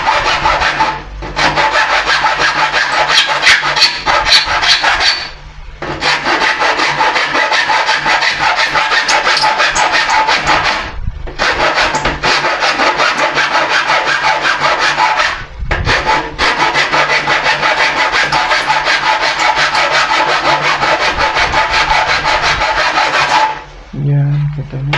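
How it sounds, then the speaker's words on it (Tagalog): Steady, continuous hand filing on a screen door frame, rasping strokes running in long bursts with brief pauses between them, loud and close, with a low hum underneath. "ang gawin nyo lang po ay kikilin nyo para pumantay"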